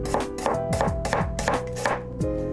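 A knife chops ingredients on a board for a tuna salad in a Peruvian causa recipe, with steady, close, rhythmic thuds about every half second.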